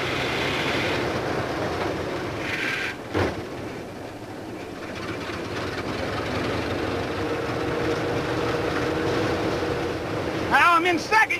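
A classic big rig truck accelerates through its gears, a loud, steady, close-up engine roar that holds for several seconds and changes briefly near the end.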